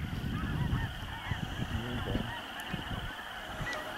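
Snow geese honking in a dense chorus during a spring evening hunt, many overlapping nasal calls from a large flock at middle distance, continuous over a low rumble, with brief speech mixed in.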